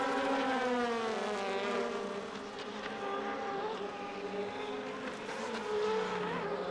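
DTM touring race cars from the 2006 season howl past on track, several engines overlapping in rising and falling high-pitched whines, loud and continuous for several seconds.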